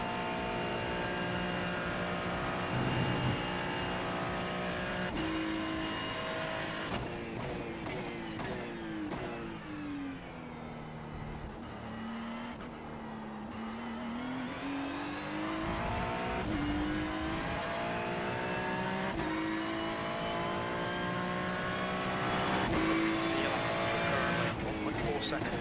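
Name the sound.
race car driving in iRacing video game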